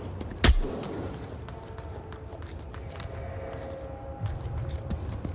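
A single sharp gunshot cracks loudly near the start in a video game, followed by a low rumbling bed of movement and faint clatter, with a softer thump toward the end.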